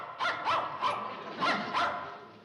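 A dog barks five times in a quick, uneven series, moderately close, with no talking over it.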